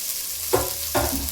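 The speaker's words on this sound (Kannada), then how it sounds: "ಇದು ತುಪ್ಪ, ಇದ್ಕಿನ ಬೇಳೆ ಹಾಕಿದ್ದೀನಿ, ಫ್ರೈ ಮಾಡ್ತಿದ್ದೀನಿ" Peeled hyacinth beans fry in ghee with a soft continuous sizzle, broken by two quick stirring scrapes close by.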